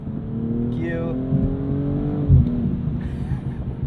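A 2022 BMW M240i engine revs and climbs in pitch, then drops sharply with a brief crackle at a quick upshift before pulling again, heard from inside the cabin.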